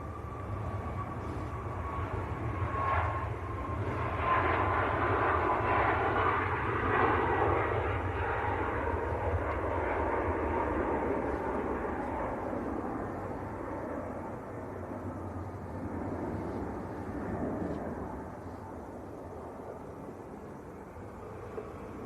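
A Maltese-registered Boeing 737 MAX at Manchester Airport gives off a steady, loud jet roar that swells in the first few seconds, holds, then eases slightly. A thin whine rides over the rumble, and no voices are present.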